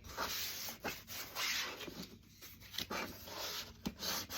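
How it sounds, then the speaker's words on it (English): A scraper is rubbed firmly along the sealed edge of a paper gift card box, giving quiet, close rasping strokes in short repeated bursts with brief pauses between. "I do like to use a scraper or a credit card just to give us that nice tight seal"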